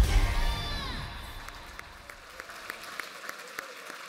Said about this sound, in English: please give a round of applause for the